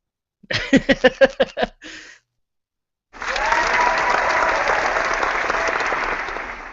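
Applause greets a special guest at an atheist convention, AACon 2015: a burst of sharp separate whoops and claps, a brief pause, then a sustained dense wall of clapping from the crowd.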